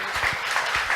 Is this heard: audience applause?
yes